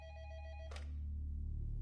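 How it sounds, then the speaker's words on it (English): A telephone on a police detective's desk at a police department rings in a short electronic burst, followed by a click, over a low steady hum. "Detective Greg Myers of the Monroe Police Department took a call at his desk"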